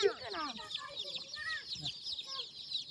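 Chicks or broiler chickens cluck and cheep in a busy, overlapping chorus at close range, with soft background noise.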